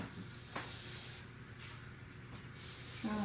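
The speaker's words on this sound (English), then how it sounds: "Well, it's Not spraying good, is it ain't giving that nice even coat." An aerosol spray can hisses in a few uneven bursts, spraying poorly and sputtering rather than giving an even mist, fairly quiet and close with no talking.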